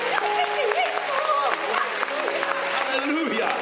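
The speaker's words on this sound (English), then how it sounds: "Somebody clap your hands to Jesus." A church congregation claps hands together in steady rhythm, the clapping mixed with voices and tonal singing or shouting throughout.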